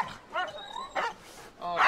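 A military attack dog barks repeatedly during handler training, rapid close yelping barks in an uneven rhythm over a noisy outdoor background.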